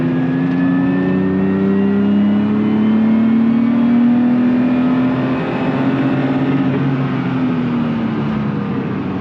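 A rally car accelerates hard on the Nogaro race circuit, its engine note climbing and holding loud and close for several seconds with a strong, steady drone and no talking.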